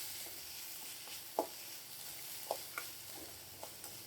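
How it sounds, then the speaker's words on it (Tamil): Onions and a green chili sautéing in a pan for tapioca poriyal: a quiet, steady sizzle broken by a few sharp clinks of a spoon stirring, faint and close. "இப்போ வெங்காயம் நல்லா வதங்கட்டும்"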